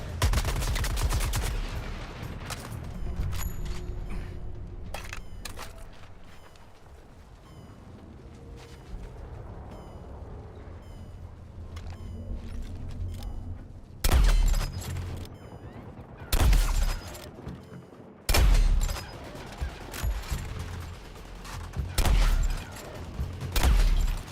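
Gunfire in Suicide Squad: Kill the Justice League, an opening rattle of shots, then a quieter stretch before several loud, separate bursts of firing with impacts near the end.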